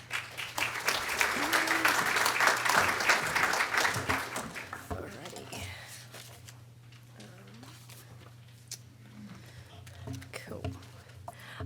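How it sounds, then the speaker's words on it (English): Applause from an audience at a university convocation meeting welcomes the Guild President to the stage, loud and dense at first, then thinning into scattered claps and quiet room murmur. "thank you for clapping about me graduating"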